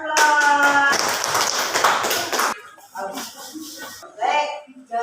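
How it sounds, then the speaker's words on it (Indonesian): Classroom applause for a presenting student group, a burst of many hands clapping loudly for about two and a half seconds, then fading into scattered claps and murmuring voices. "terima kasih untuk kelompok 2. Berikan aplaus."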